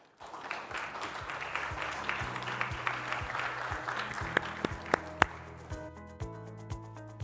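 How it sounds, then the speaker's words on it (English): Applause from a forum audience for panelists at a high-level energy forum in Singapore, moderate and fairly steady, with several sharp, distinct claps and taps ringing out near the end as it thins. "So please, one applause to all the panelists"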